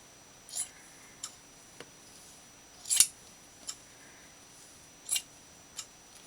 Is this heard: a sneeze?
no